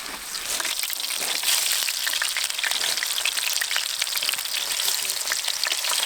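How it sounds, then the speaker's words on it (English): Food bubbles in a deep fryer outdoors at a camp on the Canadian tundra, a dense, steady hiss of oil that carries on without a break from near the start to the end. "Deep fryer."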